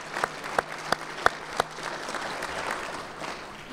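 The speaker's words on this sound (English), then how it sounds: "if you would just honor them with a brief round of applause" Brief audience applause at a 2024 State of the City address honoring a team of public servants, with a few loud, distinct claps up front giving way to softer, thinner clapping that trails off.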